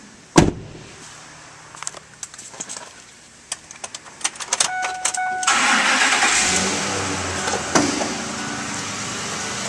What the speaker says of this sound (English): And now we'll go start up this truck.